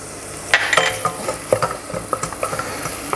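Garlic sizzles in a pan as it is added and stirred, giving a loud close crackle with quick scraping clatters from a utensil against the pan and no speech.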